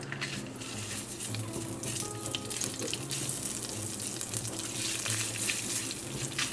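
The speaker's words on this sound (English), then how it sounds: "To that oil, I'm going to go in with some green Thai curry paste." Green Thai curry paste frying in garlic-infused coconut oil, giving a steady, close, fairly loud sizzling hiss that runs unbroken from start to end with no talking.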